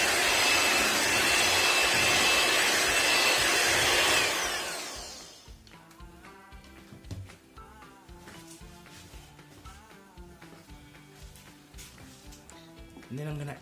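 A blender whirs loudly and steadily for about four seconds as it mixes a spinach, cheese and ground beef patty mixture, then cuts off. A person talks afterward.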